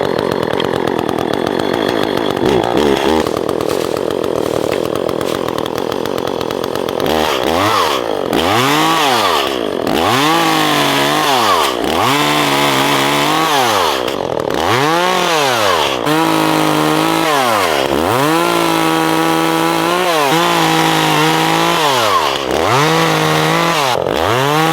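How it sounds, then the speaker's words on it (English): Chainsaw fitted with a forest-clearing saw blade, used for clearing brush and trees in woods, runs loud and close, idling and then revving repeatedly in rising and falling surges as it bites into wood. "right now is a good time to come out and bust out the chainsaw"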